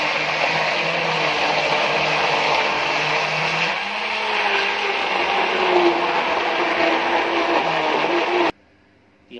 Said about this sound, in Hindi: अब हम इसे या तो मिक्सी में डाल के पीस लेंगे